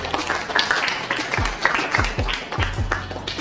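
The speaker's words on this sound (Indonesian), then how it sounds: "Tepuk tangan untuk kelompok 1." A classroom audience gives group 1 a round of applause, steady clapping from many hands at close range, with some low thuds and chatter mixed in.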